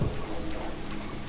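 Steady rainfall in the horror game Deadly Premonition, a dense, even patter hissing continuously at moderate loudness with no other sounds over it.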